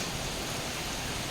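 Rain falls over the sea in a dense, even hiss of countless drops hitting the water, steady and close with no other sounds.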